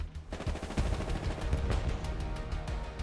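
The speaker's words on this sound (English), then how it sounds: "I listened as gunfire rang out all around the barn." Hell Let Loose gunfire crackles around a barn, a rapid burst of overlapping rifle and machine-gun shots at mid distance, dense and rhythmic over a low battlefield rumble.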